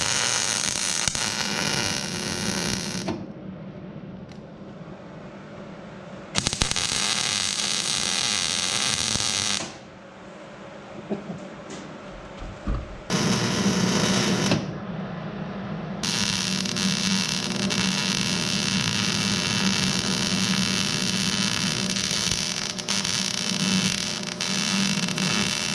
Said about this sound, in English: So the next thing now to do is to weld it.